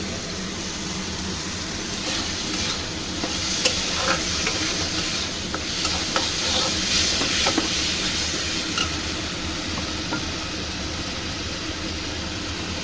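Batter-wash water poured into a pan of sizzling chilli paneer, a vegetarian dish: a continuous loud hiss and crackle of frying that carries on evenly throughout.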